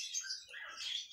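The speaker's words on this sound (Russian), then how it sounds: "птица окольцована" A pet canary gives short, high chirps and squeaks while being fitted with a leg ring, thin and fairly quiet, heard close up.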